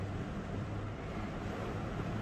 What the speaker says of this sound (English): It's raining hard here.